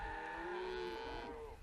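A single cow lets out a long, drawn-out low moo, fairly close and sustained, while cattle are being herded with horses.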